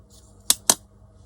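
Two crisp scissor snips close together, trimming paper for a junk journal, close and clear in a quiet room.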